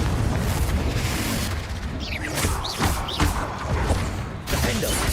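Confringo, a fiery explosive spell cast in the Hogwarts Legacy video game, gives a dense booming crash layered with whooshing and crackling effects and swirling, swept tones, loud and continuous over a rumbling low end.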